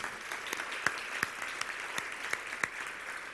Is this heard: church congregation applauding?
yes